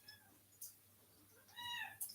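A cat meows indoors, a few short harmonic cries spread across the moment, fairly close and clear against a quiet room.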